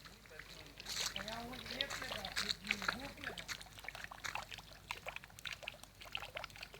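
Water splashes and pours into a large fish tank outdoors, a rough irregular sloshing that runs throughout under faint background voices.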